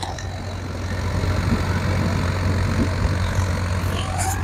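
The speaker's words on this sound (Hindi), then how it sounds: "ट्रैक्टर स्लिपेज ले रहा है" Farmtrac 60 Powermax tractor engine running steadily while ploughing wet, muddy soil with its wheels slipping, a continuous low diesel drone throughout.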